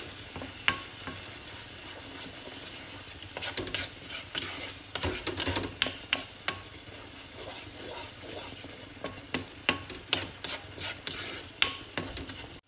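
Dried mint and chili flakes are stirred into a sizzling pot of lentil soup frying in oil, a faint hiss under scattered spoon scrapes and clinks against the pot that grow busier midway and toward the end.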